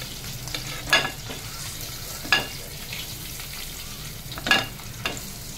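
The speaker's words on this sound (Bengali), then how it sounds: "ডিমটাকে হালকা করে ভাজবো" Eggs frying lightly in oil over low gas for egg korma, with a soft continuous sizzle and three or four distinct scrapes and clinks of a spatula turning them.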